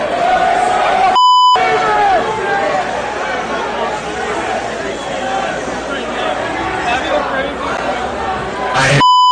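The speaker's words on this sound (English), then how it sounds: "The bleeps are expletives." Live sports-talk radio with censor bleeps covering swear words: a sharp, loud tone cuts through busy crowd chatter and talk early on, and a second bleep comes near the end.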